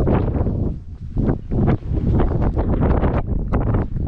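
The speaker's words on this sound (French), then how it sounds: "il y a beaucoup de vent" Strong wind buffets the microphone in heavy, uneven gusts, roaring and rumbling continuously with no voices.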